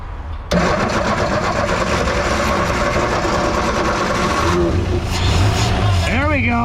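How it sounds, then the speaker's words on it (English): A 1954 Ford F100 engine, abandoned for 39 years, churns loudly and steadily as it is cranked, with people talking nearby and a brief whistling sound near the end. "Just crank it for a second."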